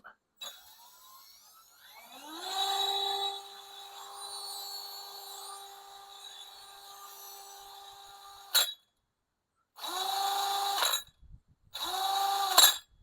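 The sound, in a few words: drill spinning a metal propeller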